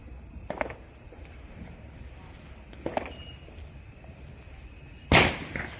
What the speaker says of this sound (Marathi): सगळा आवाज येतोय फटाक्याचा